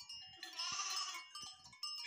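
Sheep and young Saanen crossbred goats bleating up close on a farm, a loud, wavering bleat with overlapping calls and a second cry breaking in near the end, no talking.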